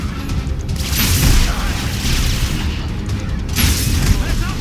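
Loud booming blasts and crackling bursts from combat in the video game Dead Space 3 fill the clip, with a big grenade explosion swelling in the middle and another burst near the end.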